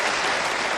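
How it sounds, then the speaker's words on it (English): Studio audience at The Tonight Show with Johnny Carson breaking into applause: a dense, even burst of clapping from many hands, loud and filling the room, lasting under a second. "Applaud if you have been here before."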